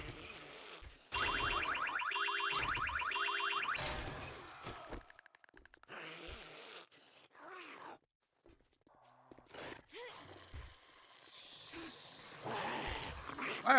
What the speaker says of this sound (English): Angry zombie noises.